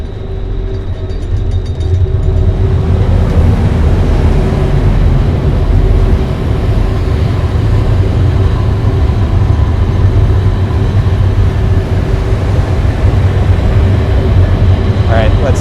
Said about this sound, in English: It could get a little noisy by the engines